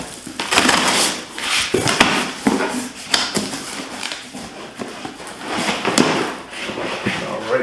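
Blade slicing and crunching through cardboard and tape on a winch box, a run of rough scraping cuts and crackles at close range with irregular pauses.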